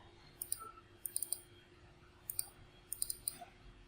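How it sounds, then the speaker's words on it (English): Mouse clicks in Lumion software come in quick pairs of double-clicks, about four sets spread over the stretch, crisp and close, with no talk. "Double click to delete that."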